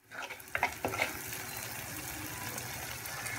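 Onion masala fries in oil while being stirred for Mumbai-style usal, a steady close sizzle with a few scraping stirs near the start, then continuous frying hiss.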